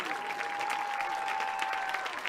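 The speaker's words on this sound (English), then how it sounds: "Let's give a big round of applause for all these band seniors." Steady applause and crowd cheering for the band seniors at a Conway High senior night game, heard from a distance at a moderate level, with a faint sustained tone under the clapping.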